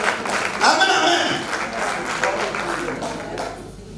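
A church congregation applauding and acclaiming the Lord during a sermon: a brief swell of scattered clapping and cheering voices that fades away.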